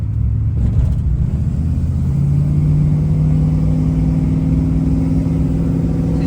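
An old truck bought for $700 drives along with its engine droning steadily, a loud, close, continuous low rumble filling the cabin with no voices.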